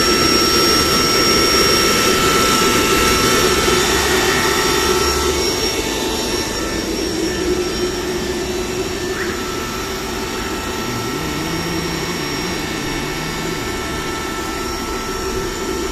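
A Fiac New Silver rotary screw air compressor, 2022 model, runs with a steady, loud whine and roar that holds throughout, easing slightly partway through.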